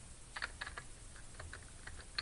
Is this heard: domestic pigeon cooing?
no